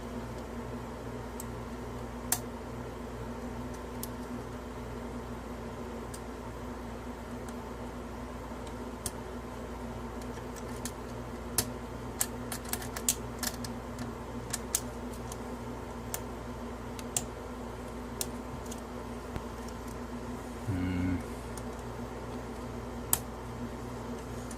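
A Kwikset lock being picked with a loose-fitting tension wrench: faint, sparse metallic ticks and small clicks of pins setting over a quiet hiss, with a short louder scrape near the end.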